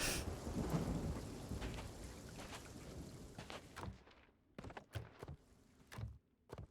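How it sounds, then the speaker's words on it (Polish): A thunderclap in a storm in the video game Sea of Thieves rumbles loudly and fades against heavy rain, followed by a few sharp separate cracks and thumps as the rain thins out. "piorun gdzieś pierdzielnął przede mną"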